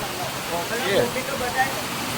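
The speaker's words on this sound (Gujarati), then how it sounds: "અહીંયા તો વરસાદ ધોધમાર ચાલુ થઈ ગયો છે" Heavy rain pouring down in a village, a dense, steady wash of noise heard at moderate level with voices talking over it.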